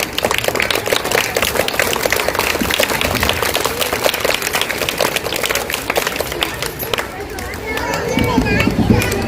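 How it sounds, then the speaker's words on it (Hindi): Audience applause at a Urdu high school Independence Day program, steady crowd clapping filling the whole stretch with children's voices and chatter mixed in, swelling slightly louder near the end. "ताली बजाओ।"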